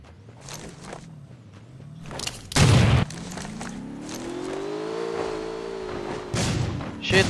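Shotgun fire in Rules of Survival, with a loud close blast midway and further heavy shots later. A vehicle engine drones and rises in pitch throughout, and muffled footsteps sound in the background.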